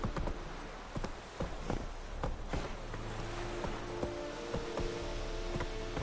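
Hooves of the horse Roach clip-clop at a gallop in The Witcher 3, a steady, fairly close rhythmic pounding over a continuous low ambient music bed.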